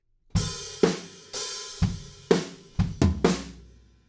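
A drum kit plays a fill from a song: a string of loud, close drum hits punctuated by ringing crash cymbals, the strikes bunching faster toward the end.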